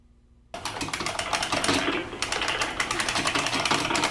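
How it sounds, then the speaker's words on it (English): After a brief moment of quiet, loud, rapid clacking of a buckling spring mechanical keyboard being typed on begins and continues steadily, close by. "Yes, I want a buckling spring keyboard."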